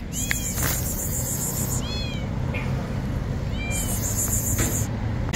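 Cats meowing at a pet market on a street in Baghdad, several clear repeated meows over a steady busy crowd and traffic murmur, with bright electronic tones or birdsong above.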